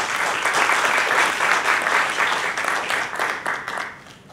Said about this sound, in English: Please give a big round of applause to Philip.